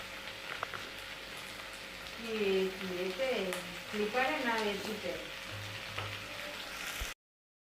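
Quiet frying sizzle of cauliflower, peas and other vegetables runs throughout, while a voice speaks briefly in the middle over the crackling pan.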